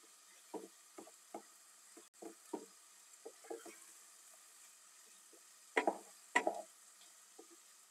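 Soaked rice being sautéed with other ingredients in a pan, a spoon giving soft scattered scrapes and taps at an uneven pace, close but quiet, with two louder clusters of stirring near the end.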